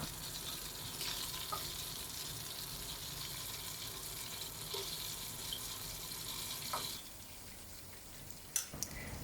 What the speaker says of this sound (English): Deep fry the first round until the chicken turns to pale yellow.